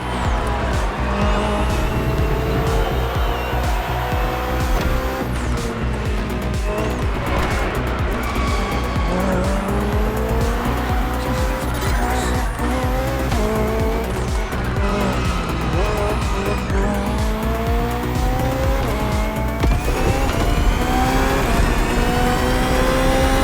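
A BMW hybrid V8 race car screams through a race in The Crew Motorfest, engine revving up and down through gear shifts with repeated tire squeals and skids, loud and continuous throughout.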